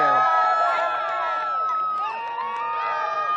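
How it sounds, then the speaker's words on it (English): A crowd of Blue Origin employees at a New Glenn launch gathering cheers and shouts continuously, many voices blending into a steady, lively roar. "Another day, another employee gathering to cheer on New Glenn."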